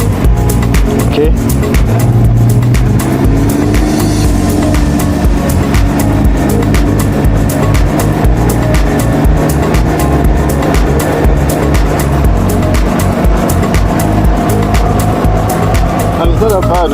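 A Can-Am Ryker three-wheel motorcycle cruising on a highway gives a steady, loud engine drone with road and wind rush throughout, while a rider talks over it.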